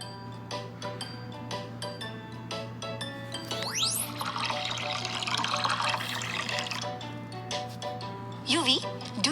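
Oil and water are poured into a jar, giving trickling liquid and light glassy clinks close by, with a splashy rush in the middle and a steady low hum underneath.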